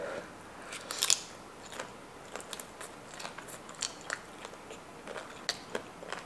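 Quiet, close crunching and crackling bites into crunchy kimchi dumplings with soft chewing, scattered irregular crisp snaps over a faint background.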